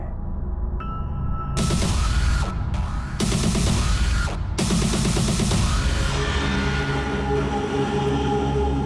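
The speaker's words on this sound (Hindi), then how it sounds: "चलो दीदी हम रेलवे स्टेशन चलते हैं।" A train at a railway station rumbles loudly and steadily with rhythmic clacking bursts and a high squeal, close by, after a brief quieter tonal start.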